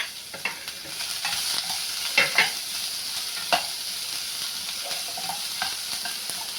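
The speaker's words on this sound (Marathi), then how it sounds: "आता कांदा चांगला आपल्याला परतून द्यायचा आहे" Chopped onion and green chilli sauté in a pan under a constant close sizzle. Scattered spoon scrapes and clicks against the pan mark the stirring, a few of them sharper and louder. No speech.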